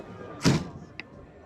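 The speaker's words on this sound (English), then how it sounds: "Wish my Escort door shut like that." A classic car door shuts with a single solid, close thud, followed a moment later by a small, sharp latch click against a quiet background.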